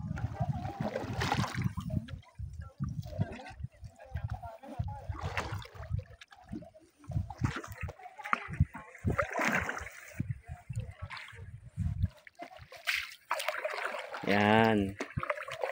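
A kayak paddle dips and splashes on a lake in Mauricie National Park, Quebec, with uneven strokes close by and people talking over the water.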